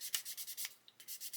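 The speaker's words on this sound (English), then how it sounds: "Just sanding that, we've got a raised edge all the way around." Quick, rhythmic sanding strokes rasp back and forth on the raised edge of a small plastic part from a 1/32 Revell Hurricane Mk.IIb model kit, close and fairly quiet, with a brief pause midway.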